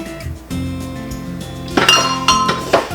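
A metal pot lid clatters and clinks against pans as it is handled and tucked into a kitchen cabinet, giving a loud burst of ringing metallic knocks that fades out.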